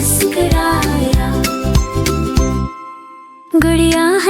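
Bright bicycle bell rings repeatedly in quick tinkling bursts over cheerful music in a children's animated nursery rhyme, pausing briefly before the chimes resume.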